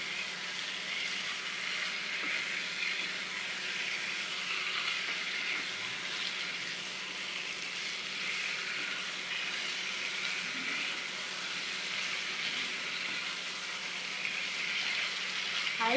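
Chicken cooking in a pan over a high gas flame, a continuous moderate sizzle and hiss that holds steady from start to finish.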